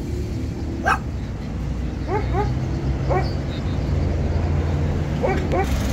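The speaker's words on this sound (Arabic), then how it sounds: "هذا كلب الهايسكي 175 ألف كلب الهايسكي سعره 175 ألف" Several short barks from a husky at an outdoor pet market on a Baghdad street, sounding at intervals against steady crowd and traffic noise.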